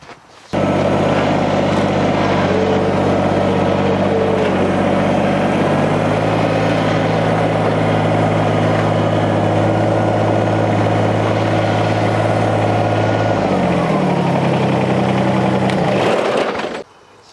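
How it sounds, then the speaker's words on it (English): A Kubota BX subcompact tractor's engine idles steadily on a 14-foot landscape trailer, a close, continuous low rumble that shifts pitch slightly partway through before cutting off at the end. "So there is just a Kubota BX,"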